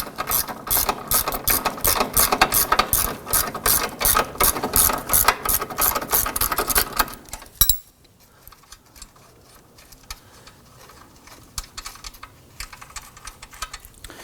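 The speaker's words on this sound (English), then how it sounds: "Use our 15mm deep socket here on our ratchet to loosen and remove this nut." Ratchet with a 15mm deep socket loosening a nut during control arm replacement on a 2005-2009 Subaru Legacy, rapid loud clicking for about seven seconds, then stopping with faint handling noises after.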